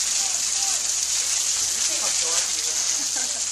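Steady heavy rain pours down during a family vacation, a dense continuous wash of hiss filling the scene, with scattered voices talking faintly beneath it.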